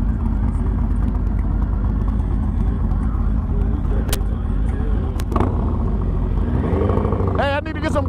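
A 2007 Yamaha R1 rides through the city at night beside a Harley Fat Bob, giving a steady close engine and road rumble with wind buffeting throughout and a brief rising rev near the end.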